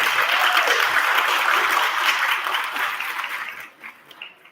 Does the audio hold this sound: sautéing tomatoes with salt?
no